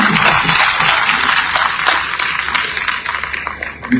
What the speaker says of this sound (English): Can we clap for him properly?